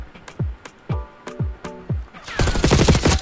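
Gunfire in the shooter Black Ops 6, a slow series of sharp single shots that gives way to a dense, loud burst of rapid fire at the end.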